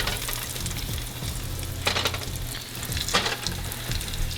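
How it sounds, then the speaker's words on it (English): Meatballs dropped into very hot oil in a pan give a continuous close, loud sizzle with a couple of sharper bursts as each one hits the oil, with no talking. "Gonna drop the meatballs in the hot oil."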